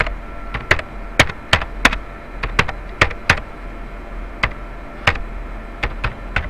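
Computer keyboard typing a command, crisp individual keystrokes in an uneven rhythm, close and clear against a quiet background hum, no speech.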